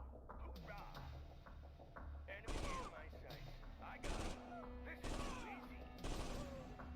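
Infantry trade gunfire against a shock trooper in Command & Conquer, with sharp bursts of rapid shots recurring every second or two over a low, busy battlefield background.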